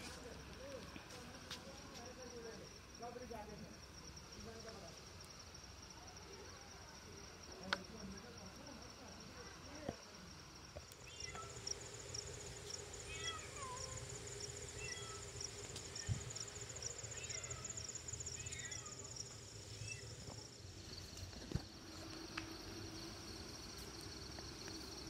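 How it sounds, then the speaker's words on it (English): Crickets chirping at night in a park: a faint, continuous high insect trill runs throughout and grows clearer in the second half, under quiet background voices and distant ambient noise. "There's too much crickets."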